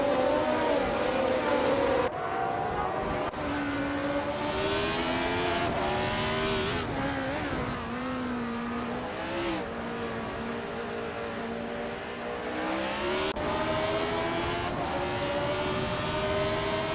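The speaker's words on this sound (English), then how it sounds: "Salty Boy Live is driving a Lotus 72E." Lotus 72E race car engine at Magny-Cours in a racing video game, a loud continuous whine that climbs and drops in pitch through gear shifts and corners, with other engine tones layered around it.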